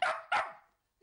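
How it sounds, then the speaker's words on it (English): Two quick, sharp dog barks close by, one right after the other, then silence. "Dogs are barking."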